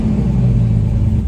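A Jeep with a 600+ horsepower Hemi V8 engine, heard as a loud, steady low rumble held close to the microphone with no break.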